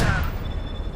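A single heavy hand cannon shot in the video game Call of Duty Black Ops Cold War, a loud booming blast at the start that rings out and decays.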